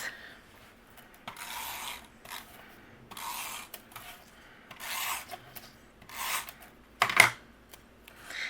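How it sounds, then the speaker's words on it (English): A tape runner rolling adhesive onto card paper, several short rasping strokes repeated in a slow rhythm, close and fairly quiet, with a sharper click near the end. "I'm going to use my tape runner for this."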